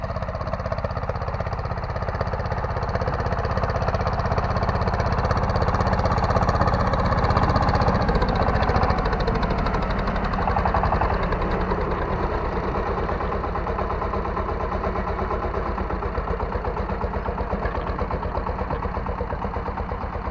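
A tractor engine runs continuously with a loud, steady rumbling drone close by, without pause or voices.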